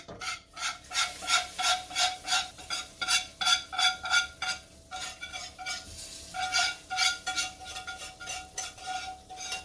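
A spoon scrapes and clinks rhythmically against a pot while thick cheeseburger soup with roux is stirred, a close repeated metallic scraping with brief pauses.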